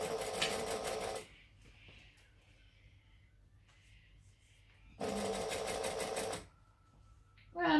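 A sewing machine stitching folded fabric close to its edge, in two loud sustained whirring bursts separated by a quieter pause with faint handling noises, and a third burst just starting at the end.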